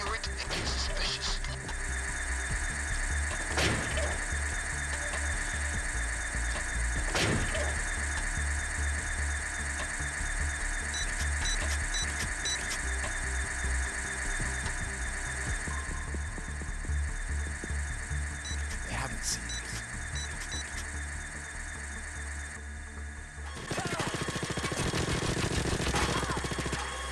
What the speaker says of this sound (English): Try to have the drill do its thing without others coming near it.